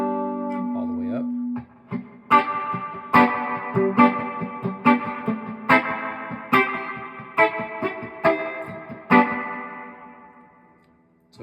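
Electric guitar picked through a Solid Gold FX Surf Rider III spring reverb pedal turned all the way up, bright struck notes and chords in an uneven rhythm, each one trailing a long, washy spring tail that fades out at the end.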